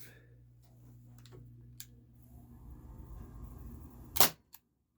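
A Beretta M84 FS 4.5mm CO2 air pistol fires a single sharp, close pop over a chronograph, followed by a faint click, after a few seconds of low background hum.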